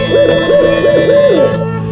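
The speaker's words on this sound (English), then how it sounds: "White owls." Owl hoots in a loud, close, rapid series of repeated wavering calls, about four or five in quick succession before tailing off, with no talk.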